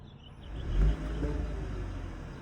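A 2025 BMW 430i xDrive engine starts quietly with one brief low thump, then settles into a soft, steady idle rumble.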